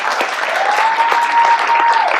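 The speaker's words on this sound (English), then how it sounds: "Give her a great applause, everyone." An audience at a hypnosis demonstration show bursts into dense, steady applause, loud and close throughout, with a sustained tone hovering over the clapping.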